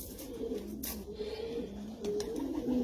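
Long-distance marathon racing pigeons coo steadily in a loft, a continuous low murmuring of several birds with faint rustling, nearby and moderately loud, with no talk.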